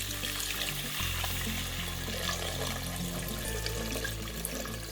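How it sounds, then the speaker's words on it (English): About six cups of water poured into a cooking pot of uncooked rice for vegan Filipino lugaw, a close, steady splashing gush that lasts the full few seconds without pause or voices. "this is about 6 cups of water that I'm pouring in here"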